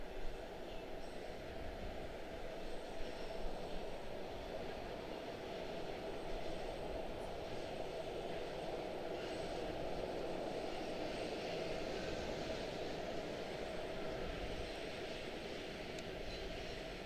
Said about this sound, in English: We have an aircraft out here somewhere, I do believe.